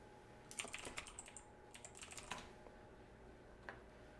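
Keys tapped on a computer keyboard to add a task in the TickTick calendar app, a quiet close run of irregular clicks in short bursts that thin out toward the end.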